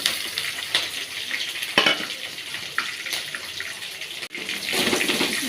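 Chopped onions go into a hot pan already holding green and dried red chillies for carrot rice, setting off a loud, steady sizzle and crackle that carries on with a few sharper bursts and no talking.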